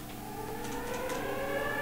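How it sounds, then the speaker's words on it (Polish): Tornado warning siren in the Minecraft Tornado Mod, a steady sustained wail with held tones running throughout, moderately loud with a faint background rumble. "Jak słyszycie, syrena się włączyła."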